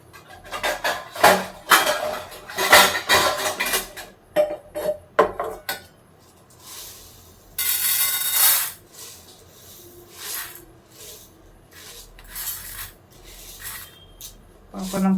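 Dishes, pots and utensils being washed by hand, with repeated close clanks, scrubbing rubs and scraping, then a spell of running or spraying water and softer rinsing clatter.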